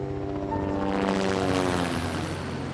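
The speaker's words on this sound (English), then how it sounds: "a National Guard helicopter flew the tool in" A National Guard helicopter flies past with a steady, droning engine and a rhythmic beat of the rotor, sustained and moderately loud at a middle distance.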